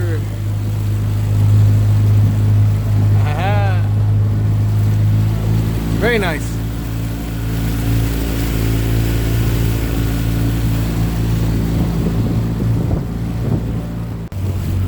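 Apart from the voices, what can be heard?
boat engine running on the river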